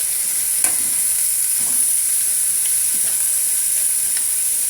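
Sliced radish and chayote stir-frying in a hot pan with other mixed vegetables: a steady loud sizzle and hiss throughout, with faint occasional scrapes of stirring and no talk.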